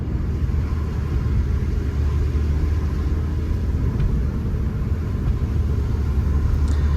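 Steady low engine rumble and road noise from a BMW M2 or M240i driving, a constant droning drone heard from inside with no talk.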